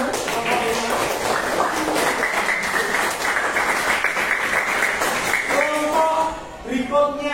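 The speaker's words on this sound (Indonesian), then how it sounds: "Tepuk tangan untuk teman-teman." Junior high school students clap for classmates after a group presentation in an informatics class, a sustained burst of applause with voices talking over it.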